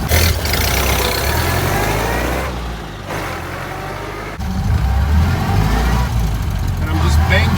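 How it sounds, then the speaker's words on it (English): A Ford Model A launches in a quarter-mile drag run, the engine revving loud and close, dipping briefly during quick bang shifts before surging again, while someone talks over it. "I'm just bang shifting this right now to get it cleared as fast"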